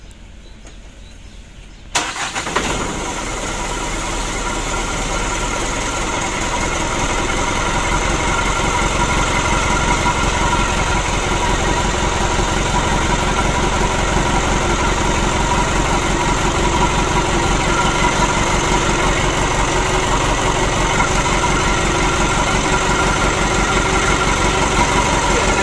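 A 120 PS engine on a build stand cranks and catches after a brief quiet start, then settles into a steady, loud, continuous idle hum with a constant rumbling drone throughout.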